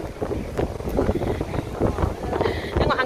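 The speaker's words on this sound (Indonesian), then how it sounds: "Tengok angin kencang." Strong wind buffeting a cruise ship deck at sea, a loud continuous roar with gusty rumbling and microphone wind noise throughout.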